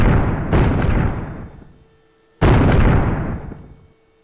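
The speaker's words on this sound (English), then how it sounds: "Ooh, grenade launcher." Two heavy blasts from a grenade launcher in a VR sandbox game, each a loud close boom that rolls off into a long fading rumble, about two seconds apart.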